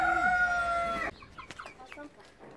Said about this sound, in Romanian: Aceștia sunt pui sau găini? Pui.